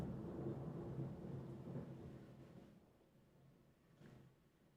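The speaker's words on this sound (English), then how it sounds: "There was just thunder loud enough that it was rattling my windows." Loud thunder from a storm, heavy enough to rattle windows, rumbles low and broad for a few seconds, then fades into a quieter tail with a faint later rumble.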